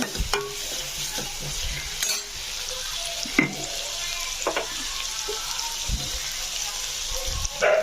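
Onions and green chillies sautéing in a pan for a potato side dish, with frequent spoon scrapes and clanks against the pan over a light sizzle, close up and fairly clear.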